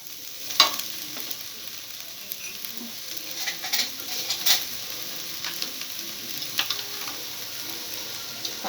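Vegetables for rolls cook over high heat in a pan, a continuous hissing sizzle with scattered spatula scrapes and light knocks, close by and moderately loud.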